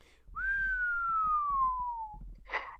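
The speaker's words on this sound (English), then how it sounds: "Hey, do that whistle thing again." A single long whistle from a person, a clear, steady tone that glides slowly downward for about two seconds, with faint background noise and a short breathy snort right after.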